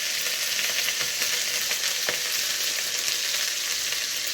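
Ginger and ground spices hit hot oil, giving a dense, even sizzle close up with faint stirring taps throughout.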